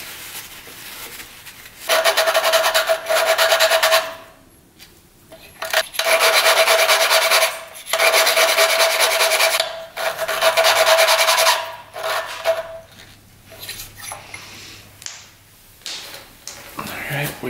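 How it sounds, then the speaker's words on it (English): Cloth wiping grinding compound off an engine valve from a mini bike engine, in repeated scrubbing rasps of about two seconds each, close up, separated by short pauses. "Wipe off the valve grinding compound. Get all that out of there."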